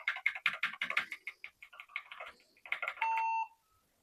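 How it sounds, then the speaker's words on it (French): An old HP desktop computer pulled from the trash runs its BIOS startup: a run of rapid clicks and key taps, then a single steady electronic buzzer beep of about half a second, close and clear. "Petit buzzer."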